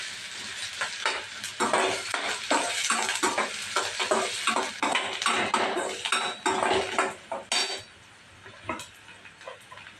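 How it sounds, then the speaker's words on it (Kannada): Sliced onion and curry leaves fry in hot oil as a metal spatula rapidly clanks and scrapes against the pan in a quick rhythm over a steady sizzle, close and without speech. "ಎಣ್ಣೆ ಬಿಸಿ ಆದಮೇಲೆ ಹಾಗೆ ಕರಿಬೇವು ಹಾಕೋಬೇಕು. ಅದನ್ನ ಚೆನ್ನಾಗಿ ಫ್ರೈ ಮಾಡ್ಕೋಬೇಕು."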